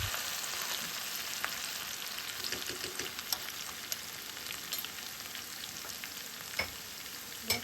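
Crushed green chilies and garlic frying in hot ghee with cumin, a steady dense crackling sizzle with small pops and occasional stirring clicks, close and alone without talk.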